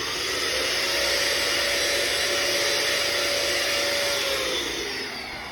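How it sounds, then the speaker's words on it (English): A handheld vacuum runs steadily, close and loud, sucking baking soda off a mattress top, with a constant whining motor hum that eases slightly at the end. "and then grab a handheld vacuum."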